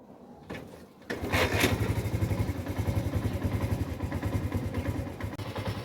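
A motorcycle engine catches after a short cranking clatter, then settles into a steady, close, rapidly pulsing idle and rumble as the bike gets under way outdoors in cold weather.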